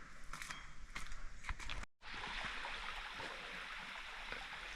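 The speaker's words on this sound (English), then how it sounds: "this is the first waterhole, and then the water is falling down the rocks over there" Water falls down the rocks at a waterhole in Chapada Diamantina, making a steady rushing hiss at moderate distance, broken by a few scuffs and footsteps nearby and a brief dropout partway through.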